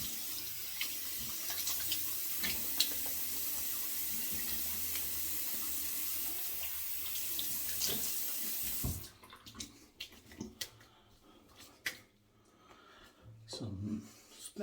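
Steady hiss of water running from a bathroom tap to rinse a Feather Artist Club SR razor, continuous and close for several seconds, then cutting off to leave scattered drips, clinks and rinsing sounds.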